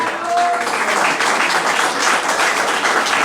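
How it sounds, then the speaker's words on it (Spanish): A burst of loud, dense applause from a large church congregation, sustained and even throughout with no talking over it. "Dele un aplauso al Dios Todopoderoso."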